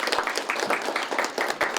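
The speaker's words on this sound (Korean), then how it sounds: "큰 박수 부탁드립니다." Audience applause fills the hall at a literary award ceremony, a dense, steady patter of many hands clapping close and continuous, with no voices over it.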